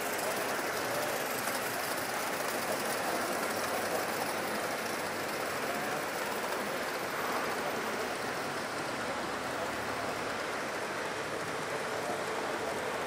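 A gauge 1 live steam model locomotive runs on a club demonstration layout, giving a steady, continuous broadband hiss and rumble like rain or rolling wheels, constant in level throughout with no distinct beats.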